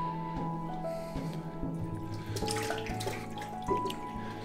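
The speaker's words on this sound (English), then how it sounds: "Take the water out and then going to do another wash" Tap water runs steadily into a sink or tub to wash a cyanotype print, a continuous close splashing wash with a few small clunks and no talk over it.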